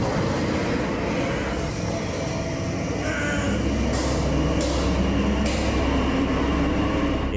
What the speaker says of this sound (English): sitting on the rackety dark train in the middle of the night